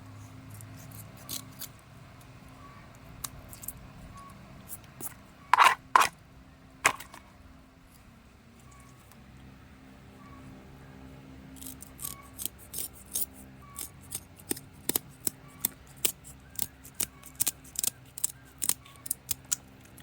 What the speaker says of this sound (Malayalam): രണ്ട് സൈഡിലെ ചിറവിനെ അങ്ങ് കട്ട് ചെയ്ത് വിടുക